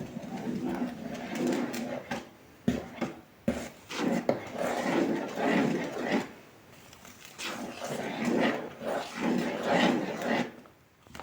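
Curd pancake batter stirred with a spoon in a bowl, a steady scraping and rubbing with soft clinks of the spoon against the bowl, repeating in uneven strokes for about eleven seconds.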